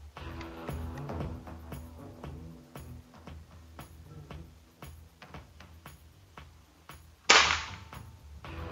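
A single sharp crack from a Neo GNT Titanium v2 air rifle fired during an accuracy test, loud and abrupt, following quiet handling clicks and ticks.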